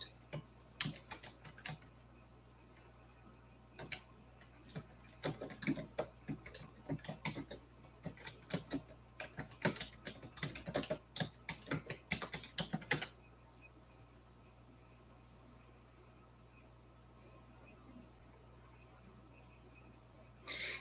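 Typing on a computer keyboard, quiet close clicks in an irregular flurry of keystrokes that starts and stops, then gives way to near silence with a low steady hum beneath.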